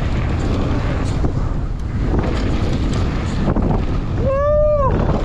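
Steady wind roars across the microphone of a mountain biker riding at Cardrona, New Zealand, in a constant broadband rush, with a brief rising-and-falling whistle near the end.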